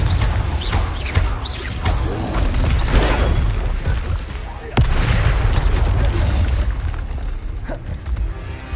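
A Confringo spell explodes in Hogwarts Legacy, with booming blasts and crackling bursts amid ongoing combat, and a sharp hit near the middle, alone without speech.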